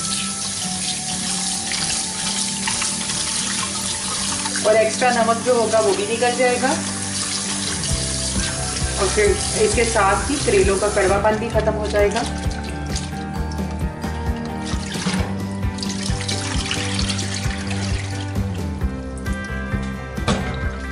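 Tap water runs steadily into a sink while bitter gourds are rinsed a couple of times for a mutton karela dish, with someone talking over the flow throughout.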